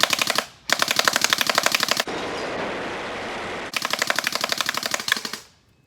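A SCAR airsoft rifle firing in long full-auto bursts, a rapid loud mechanical rattle with short gaps and a steadier whirring stretch in the middle, then stopping.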